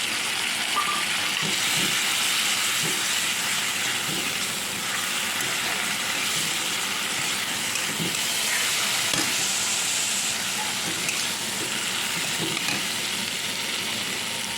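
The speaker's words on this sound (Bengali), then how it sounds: "পেঁয়াজটা ভাজা ভাজা হয়ে গেছে এবার এই আদা রসুন লঙ্কা বাটাটা দিয়ে দিলাম" Ginger, garlic and green chilli paste sizzling loudly with fried onions in a pan for doi begun, a steady close hiss with occasional stirring scrapes throughout, no talk.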